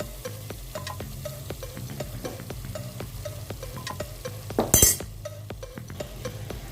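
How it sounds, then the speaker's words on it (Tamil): Chicken pieces tumble into a pan of red radish gravy masala and fry, a steady sizzle carrying repeated stirring scrapes and clinks, with one louder splashy burst as the meat goes in. "இப்போ நம்ம இந்த இடத்துல வந்து சிக்கன் போட போகிறோம்"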